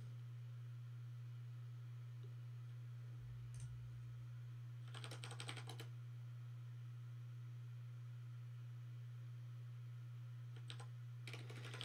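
Short bursts of keystrokes on a computer keyboard rattle out in a few quick clusters, separated by stretches of quiet over a steady low electrical hum.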